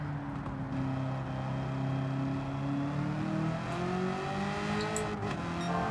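Race car engine in Gran Turismo 7 during an American Clubman Cup 700 event, a steady sustained drone whose pitch slowly rises and bends as power is fed back in, loud and continuous with no talk over it.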